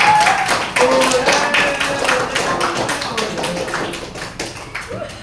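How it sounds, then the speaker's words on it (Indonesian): A school class claps hands together in quick, rhythmic bursts that ring out close and loud, while voices chime in over the clapping. "Tepuk tangan."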